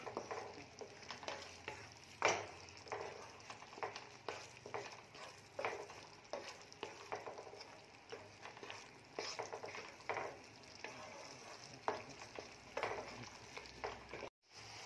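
A spoon stirs butter paneer masala in a frying pan: steady sizzling with repeated scraping strokes in an uneven rhythm, fairly quiet and close, with no talk.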